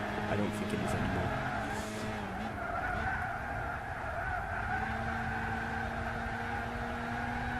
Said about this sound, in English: This car likes to drift. Well, drift. You can hear the tyres squealing.